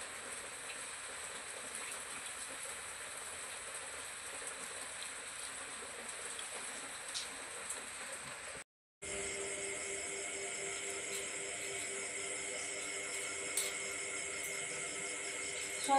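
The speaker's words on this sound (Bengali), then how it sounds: "এখন জোরে বৃষ্টি পড়ছে।" Heavy rain pours steadily outdoors in a rural village, a dense, unbroken hiss that cuts out for a brief moment before resuming just as strong.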